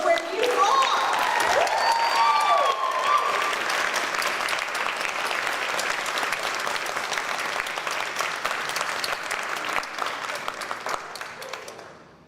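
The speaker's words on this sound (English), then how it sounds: "I just want to hear some applause and hollers and all of that," Graduates at a 2021 School of Education pinning ceremony break into loud applause with hollers and whoops early on, then sustained clapping that slowly thins and fades out at the end.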